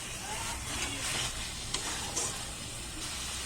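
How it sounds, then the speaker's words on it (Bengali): Spice masala for country chicken curry sizzles and fries in a pan under steady stirring, with an even, dense crackle throughout and a few scraping clinks. It is close and moderately loud. "নাড়াচাড়া করে দেবো আর খুব ভালোভাবে মশলাটা কষিয়ে নেব"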